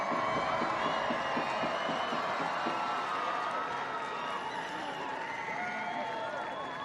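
A soccer stadium crowd cheers and roars near the end of a Sporting JAX versus Tampa Bay Sun FC match, a loud, steady wash of voices with some rhythmic clapping early on.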